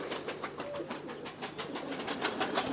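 Pigeons at a countryside pigeon loft coo and flutter in a steady, busy texture, with repeated soft calls layered over continuous rustling, moderately close and without any talk.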